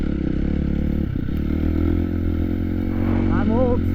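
Motocross bike ridden at sunset in Vegas, with a steady, close engine drone and some clattering, under someone talking.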